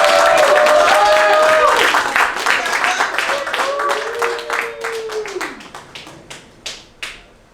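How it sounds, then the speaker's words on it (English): Audience at a comedy club bursts into loud applause for the first act, dense clapping and cheers that thin out over several seconds into a few scattered final claps. "I would please give a round of applause for Magda."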